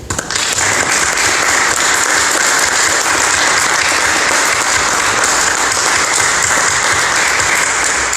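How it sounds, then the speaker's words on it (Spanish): A congregation applauds at a Sunday Mass for Good Shepherd Sunday, a dense, steady wash of clapping that stays loud and unbroken throughout with no voices over it. "Démosle un buen aplauso al buen pastor."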